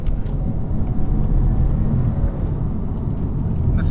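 Steady cabin road roar and engine hum from a 2017 Audi A4 Avant being driven along a tight, winding B road, continuous and fairly loud with no talking.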